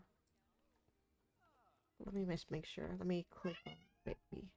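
House cat gives a brief, faint meow in a quiet room, followed by a person talking close to the microphone.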